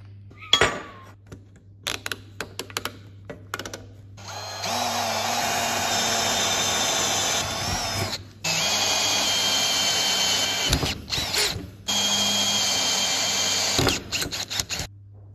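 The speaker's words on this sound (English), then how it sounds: "I'm just going to put it in the drill, which you probably shouldn't do" A power drill drives a thread-cutting tap into a hole in farm metalwork, with long loud steady whirring runs broken by short pauses and clunks, no talking.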